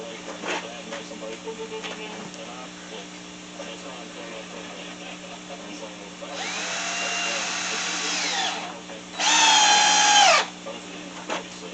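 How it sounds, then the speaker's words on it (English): A power drill drives 3/8 screws through the outside into a wooden cross brace on a dog training platform, two separate whirring bursts, the second shorter and louder, over a steady background hum. "drive some 3/8 screws through the outside into that cross brace."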